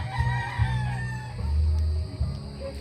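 Young gamefowl stags about four months old crow on a farm, several overlapping crows and clucks, fairly close and loud, with no talking.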